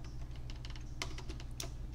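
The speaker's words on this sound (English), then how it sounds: "I'm going to type it in here." Keys clatter on a computer keyboard during data entry, a quick run of close, light taps with a couple of sharper strokes, over a steady low hum.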